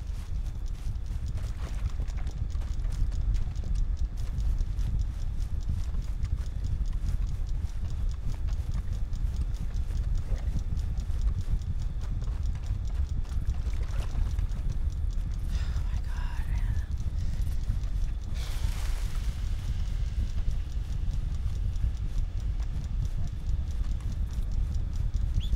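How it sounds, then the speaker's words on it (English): Horse hooves clip-clopping in the Fallout 76 video game, a steady rhythmic trot running throughout over low rumbling ambience, with a voice talking at times. "there's my horse"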